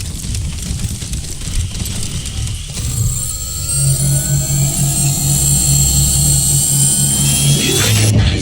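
Jet aircraft engines roar steadily from the Wasteland 3 video game, a loud continuous drone that swells after about three seconds and holds a sustained low hum beneath a high whine.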